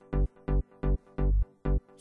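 Zeta 2 synth in FL Studio sounding a chord pattern of six punchy, evenly spaced stabs, one sustained slightly longer, bright and close with no talking.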